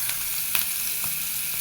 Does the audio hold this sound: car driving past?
no